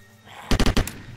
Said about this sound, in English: Was that just one bullet I hit him with?